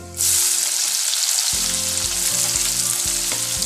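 Chopped onions dropped into hot oil with mustard seeds and curry leaves for pav bhaji: a sudden bright sizzle starts and stays loud and steady, with rhythmic scraping stirs of a spoon in the pan underneath, close up.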